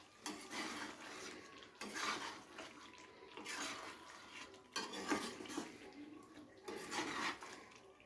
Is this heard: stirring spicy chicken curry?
yes